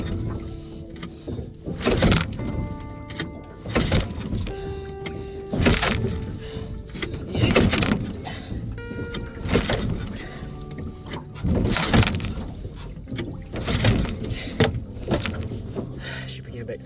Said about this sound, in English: Taking the choke off and giving it full throttle now in case I've flooded it.